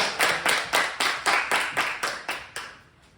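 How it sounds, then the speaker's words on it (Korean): A church congregation applauds during a Sunday worship service, about ten sharp, evenly spaced claps in a steady rhythm that fade out at the end, with no talk over them. "큰 박수 부탁드리겠습니다"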